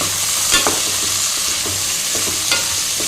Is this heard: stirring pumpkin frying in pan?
yes